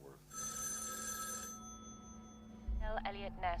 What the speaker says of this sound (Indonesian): telepon di rumah Chris berdering dan Medina pun menjawabnya